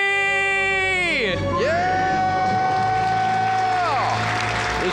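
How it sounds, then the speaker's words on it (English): A woman screams a long, loud debt-free celebration scream after a countdown, her voice rising and falling in sustained wails, with a crowd cheering and whooping underneath throughout. "Let's hear a debt-free scream."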